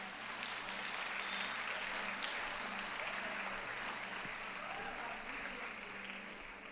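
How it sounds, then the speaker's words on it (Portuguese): A church congregation claps together in sustained, dense applause, steady and loud throughout, with a few faint voices mixed in. "Eu quero que você aplaude ao Senhor por isso."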